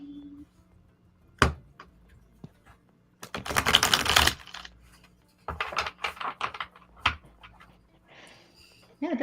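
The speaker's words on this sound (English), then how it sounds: "Card shuffling. Card shuffle." Playing cards being shuffled at a table, with crisp bursts of flicking and riffling, one sustained riffle in the middle, and scattered clicks and taps around it, close and fairly quiet.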